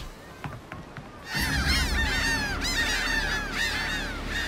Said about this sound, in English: Birds are all leaving.